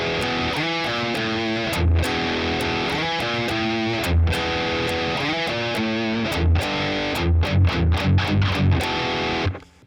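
Heavily distorted electric guitar chugs through the main riff, loud and steady, with palm-muted notes and accented chord hits, alone without talk.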